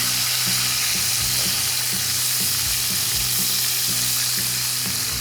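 Beef burger patties smashed thin in a cast iron skillet sizzle loudly and continuously, a dense close hiss with faint low thumps pulsing underneath throughout.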